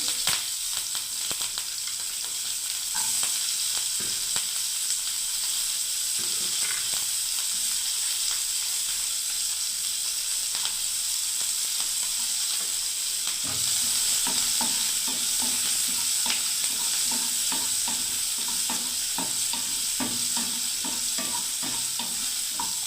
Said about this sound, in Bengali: এবার একটু পেঁয়াজ কুচনো দিয়ে দিচ্ছি বন্ধুরা